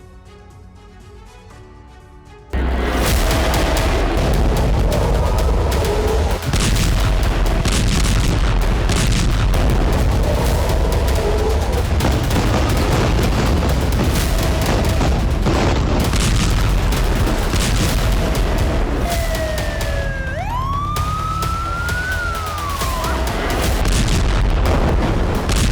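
Heavy booms and blasts from bomb strikes in Gaza roar loud and continuous after a quieter opening, with rumbling low energy and a few whistling tones near the end.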